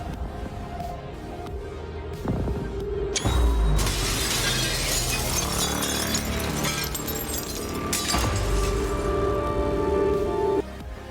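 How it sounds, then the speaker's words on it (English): Glass breaking in the video game Prey: a loud crash of a balcony window shattering, followed by sustained scattered tinkling and debris, with a low ambient hum throughout and no voices. "so you hit the glass, which breaks"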